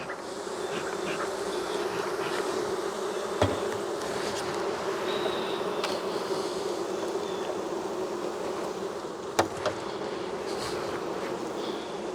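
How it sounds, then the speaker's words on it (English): Honeybees buzzing steadily over a full hive frame of capped brood during an early September hive inspection, a dense continuous hum with a few brief louder passes close by. "All right, a full frame of capped bees"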